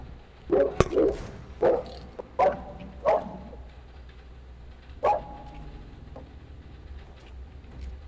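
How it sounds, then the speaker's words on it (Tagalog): A dog barks in a series of sharp, fairly close woofs, several in quick succession, then a final bark after a pause; no talking. "Aso nyo ba yun"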